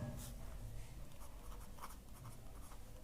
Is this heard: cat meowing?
no